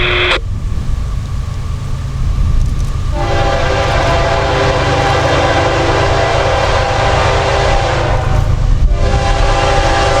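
A CSX freight train rolls past at speed in North Florida, its horn sounding in long, loud sustained blasts over a steady heavy rumble of wheels and engine throughout.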